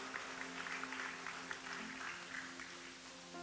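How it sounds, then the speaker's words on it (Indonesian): A church congregation claps with a soft, continuous wash of applause heard from a distance at low volume, with a faint steady hum behind it. "Tepuk tangan buat Yesus Tuhan kita."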